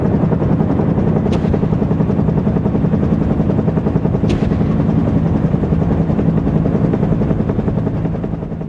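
A Bell UH-1 Huey command and control helicopter drones steadily and loudly overhead, its rotor thump and engine roar continuous and unbroken, with no voices.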